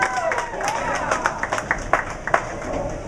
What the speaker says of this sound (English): Finally some cheers over there.